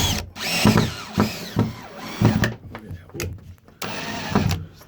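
A power tool drives a screw into a prototype lab service hatch in several loud whirring bursts with short pauses between them, close up, with some talk mixed in.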